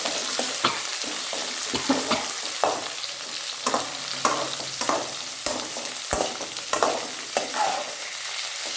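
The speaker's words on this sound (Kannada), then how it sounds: "ಒಂದು ಸ್ವಲ್ಪ ಕಲಸಿ ಈರುಳ್ಳಿನ ಜೊತೆಗೆ." A spoon stirs chopped onions sizzling in oil in a hot pan while cooking an Indian bendekai (okra) palya, with a steady frying hiss and repeated scraping knocks close up, no talking.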